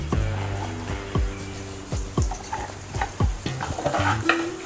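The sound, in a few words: rice roasting in hot ghee for kheer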